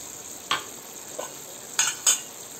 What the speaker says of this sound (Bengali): রান্নাটা হয়ে গেছে, এবার আমি এর মধ্যে অল্প করে ঘি দেব।